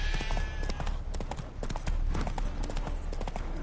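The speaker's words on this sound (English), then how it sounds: "Spooking my horse. Roach doesn't like ghosts." Horse hooves clip-clop steadily at a brisk walk in The Witcher video game, close and fairly loud, with a faint voice and ambient game sound underneath.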